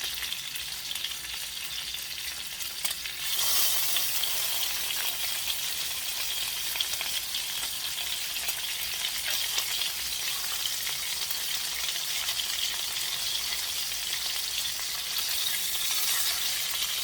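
Pork chops sear in a hot pan for brown gravy smothered pork chops, giving a steady, dense sizzle that swells louder after a few seconds and holds on with no talking.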